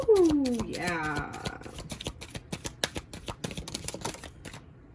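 Oracle cards being shuffled by hand, a rapid run of crisp papery riffles and taps that continues steadily for several seconds, with a brief voice sweeping up and down near the start.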